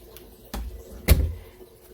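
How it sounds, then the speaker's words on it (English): A door being closed in a garden, giving two dull thuds about half a second apart, the second heavier and closer, each with a short low rumble trailing off. "Close this door behind me."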